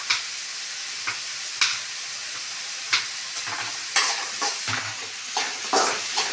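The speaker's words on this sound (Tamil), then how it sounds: "இப்போ வெங்காயம் லைட்டாக வதங்கிடுச்சு" Onions sauté in a pan for chicken thokku, making a steady close sizzle and frying hiss broken by scraping stir strokes every second or so, with no talking.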